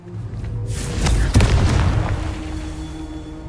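Confringo blasting spell exploding in Hogwarts Legacy, a broad booming blast that swells then cracks sharply into a big explosion, its rumble trailing off over a couple of seconds.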